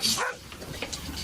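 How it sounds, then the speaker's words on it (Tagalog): A dog gives a single short bark near the start, fairly close, followed by quieter low sounds. "Baka bigla na lang umalis dahil sa katatahol ng aso namin."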